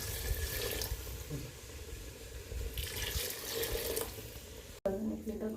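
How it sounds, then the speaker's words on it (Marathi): About a litre of water splashes and pours into a pot for chicken curry on a wood-fired stove, with a hissing, bubbly rush, close by, broken by a brief pause near the end. "सर्वसाधारण एक लिटर पाणी टाकून घेतलं"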